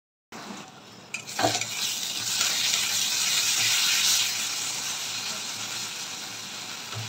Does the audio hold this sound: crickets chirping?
no